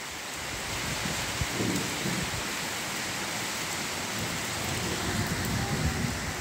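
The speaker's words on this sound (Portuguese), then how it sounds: "Tá diminuindo a chuva." Steady rain falls outside an upstairs bedroom window, a dense even hiss of drops on surfaces with a faint low rumble underneath, continuous and fairly close.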